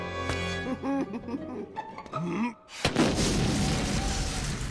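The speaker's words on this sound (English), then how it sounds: "I'll have to use me explosives" Explosives go off in a cartoon scene: after music and voices, a loud blast erupts and rolls into a sustained, rumbling roar.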